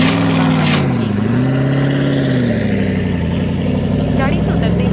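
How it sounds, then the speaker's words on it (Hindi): A luxury car pulls up and stops beside a farm field, its engine a loud, steady, close hum that dips and rises slightly as it slows, alone with no talk. "तभी एक आलीशान गाड़ी उसके खेत के पास आकर रुकी।"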